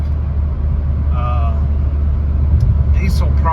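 A 2005 VW Jetta TDI diesel wagon with a quarter million miles cruises on the freeway, giving a loud, steady low engine and road rumble inside the cabin, with faint voice-like sounds over it.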